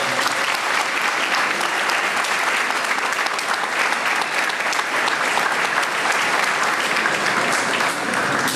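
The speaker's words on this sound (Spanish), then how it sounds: "Brindemos nuevamente un fuerte aplauso al doctor" An audience at a university law lecture gives the doctor speaker strong, dense, continuous applause that holds steady and loud from start to finish.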